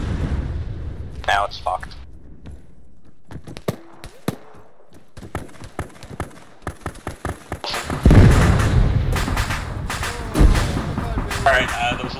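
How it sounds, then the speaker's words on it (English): Explosions and gunfire from an Arma III military operation, from the perspective of an anti-tank team member: repeated sharp blasts and heavy thumps, with a dense, loud burst near the end, while players talk over the radio between and over the impacts. "there was a lot of explosions there"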